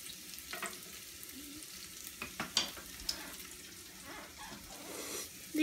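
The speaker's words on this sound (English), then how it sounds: "I'm gonna add some chopped garlic and some cut up Vidalia onion. And we'll get that sauteed up first." Chopped garlic and cut Vidalia onion sautéing in a pan, a faint soft sizzle with a few light clinks and stirring taps, fairly quiet and close with no voices.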